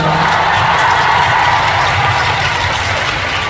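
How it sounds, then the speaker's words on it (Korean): Concert audience at THE DREAM SHOW 2 applauding and cheering, a dense, loud, steady roar of clapping and shouts sustained throughout with no talk over it. "스스로한테도 박수 한번 쳐주세요."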